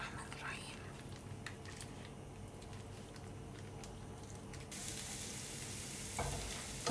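Molokhia stirred into a pan of sizzling garlic tasha, a continuous fry hiss with stirring, turning to a brighter, louder sizzle near the end, with soft voices in the background.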